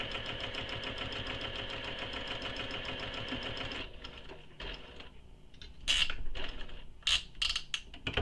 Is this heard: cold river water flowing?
no